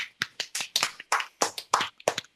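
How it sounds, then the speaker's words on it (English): A small live studio audience claps in short, uneven bursts, roughly eight loose clusters of hand claps close by, with no talking over them. "Let's have a hand."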